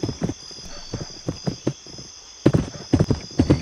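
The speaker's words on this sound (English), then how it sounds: "Giddy up, horsey, giddy up." Horse hooves clip-clop in the Westbound video game, a quick rhythmic trot of close, crisp hoofbeats, briefly pausing before resuming louder and faster.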